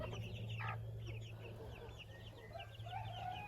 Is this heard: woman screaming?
no